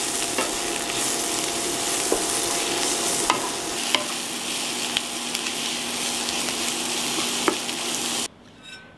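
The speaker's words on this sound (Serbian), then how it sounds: "Promešat ću i nastaviti da pržim još jedno 4 minuta." Ingredients being stirred and fried in a pan with a spoonful of sweet ground red paprika, turmeric and salt, a steady loud sizzle broken by scraping stirs throughout, cutting off abruptly near the end.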